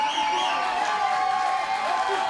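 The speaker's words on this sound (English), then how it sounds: "Crowd here loving it." Live crowd at a women's kickboxing fight in a Miami studio arena, a steady broad roar of cheering and excitement filling the space throughout, fairly loud with no clear breaks.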